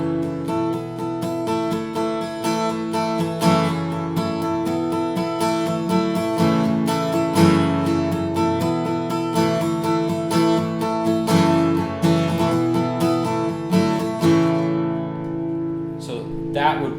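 Acoustic guitar softly strumming a 6-5-4-1 chord progression in A, focused on the higher strings, with steady even strokes for the whole stretch before fading out at the end.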